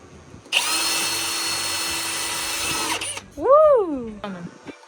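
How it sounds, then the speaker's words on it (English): A power drill bores a shaft hole through a Lego part, a close steady whine of about two and a half seconds that stops abruptly, followed by a short rising-and-falling whir. "Down the center for a little shaft. Trying to drill it."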